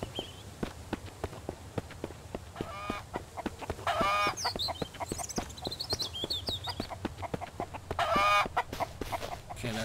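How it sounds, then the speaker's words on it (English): Chicken in the zombie survival video game Mist Survival, rapid clucking with louder squawks and honk-like calls between, accompanied by quick footsteps close by, no voices. "Run, chicken, run, run, chicken."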